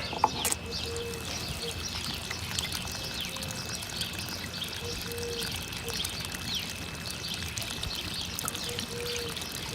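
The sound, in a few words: water being drained off from a tub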